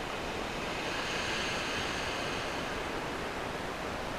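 Sea waves wash onto the shingle of Chesil Beach as a dense, continuous roar of surf, loud and close with no talk.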